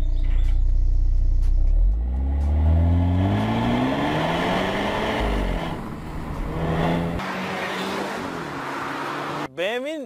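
A BMW xDrive car drives and slides across dusty, slippery ground, its engine loud and close, revving and falling in long sweeping pitch changes with a steady rumble throughout.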